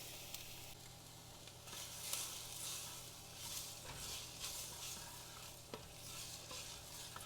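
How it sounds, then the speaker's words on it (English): Onions and garlic sauté in olive oil in a preheated skillet, giving a faint, steady sizzle with a few soft stirring clicks and scrapes, no voices. "I'm going to throw in the onions and garlic to saute"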